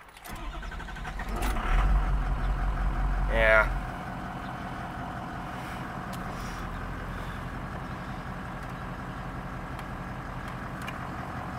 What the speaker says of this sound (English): that's what a cold diesel sounds like even in a hot day